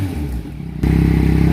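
Yamaha MT-09 motorcycle fitted with an Akrapovic exhaust revs hard nearby, its engine note dipping briefly before jumping to a loud, steady, throaty roar.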